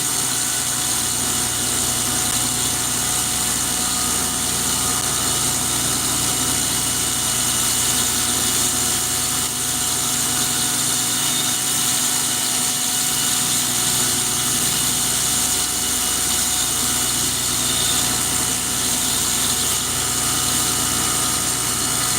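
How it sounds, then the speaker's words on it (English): A grinder with a scalloped wheel finishing a forged carbon-steel knife blade, giving a steady, loud, continuous whirring hum that holds without a break for the whole stretch. "I'm using a scalloped wheel. I get a better finish that way."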